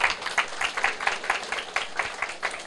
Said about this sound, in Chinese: 大家过来鼓掌一下啊